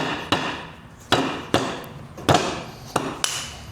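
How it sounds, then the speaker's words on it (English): A mallet knocks a bearing cap off a trailer wheel hub on a sawhorse: six sharp, loud wooden-sounding raps at uneven intervals, each with a short ringing decay, and no voices. "I'm just using a mallet, just kind of walk it off"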